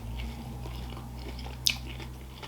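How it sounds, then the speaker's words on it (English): One crisp bite into a crunchy fried beef empanada lands as a sharp crunch midway, with quiet chewing noise and a steady low hum around it. "Nice crunchy outside."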